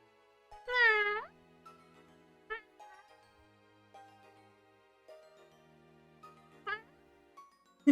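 A person's voice imitates a cat, giving one drawn-out meow followed by several shorter, softer mews and chirps spread over a few seconds in a quiet room.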